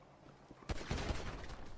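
A burst of gunfire from a video game breaks out after a quiet start, a rapid rattling volley of shots that continues as a dense, fairly loud barrage.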